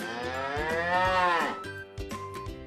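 A cow moos once, a long, loud, drawn-out low call that swells and fades, followed by quieter farm background noise, with no talking.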